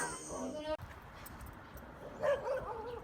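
Big dog whimpering and giving short yips indoors, soft and near, with a few high whine notes over a low background hum.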